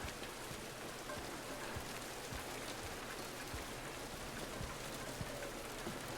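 Steady rainfall in Silent Hill 2, a dense broadband hiss with scattered droplet patters, continuous and even throughout with no voices.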